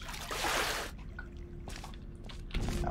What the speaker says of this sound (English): That water is loud.